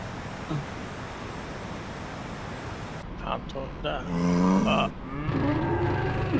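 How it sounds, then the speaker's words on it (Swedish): Cattle moo in the DCS flight simulator, a couple of drawn-out lowing calls in the second half after a stretch of steady background noise, moderately close. "Där är fan massor av kor."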